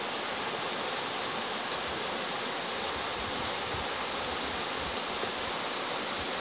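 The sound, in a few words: river rapids rushing water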